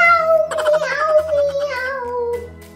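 A voice imitates a cat's meow: one drawn-out, high-pitched call that slowly falls in pitch, close and clear.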